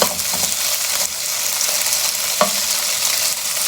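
Beef stir-frying in a pan for beef in black bean sauce, a loud steady sizzle with sharp scraping stirs near the start and around the middle, close and without speech.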